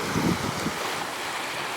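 Ocean surf rolls in on the North Shore of Oahu, a short burst of breaking-wave wash muffled by heavy wind buffeting on the microphone.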